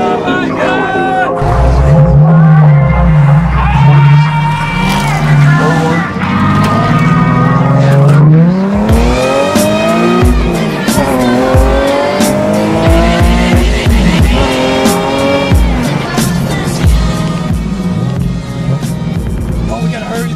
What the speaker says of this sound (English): I think they're gonna race and I'm gonna try to record it for you guys.